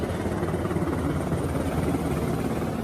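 Steady rotor and engine roar of a helicopter, a continuous broadband drone holding an even level throughout with no voices.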